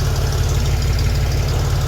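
A tractor engine idles just after starting: a loud, close, steady low thrumming with a regular knocking pulse and rattling vibration, continuous with no voices.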